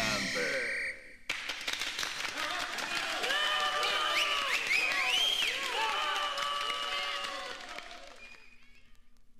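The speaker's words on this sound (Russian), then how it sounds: "Аплодисменты!" An audience at a 1990 children's rock-opera performance breaks into applause, a dense wash of clapping that swells after a brief pause and holds steady before fading out near the end.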